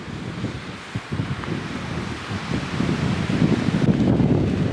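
Wind and surf on the beach at Myrtle Beach, South Carolina, a steady broadband rush that builds slightly toward the end, with gusts buffeting the microphone and no voices.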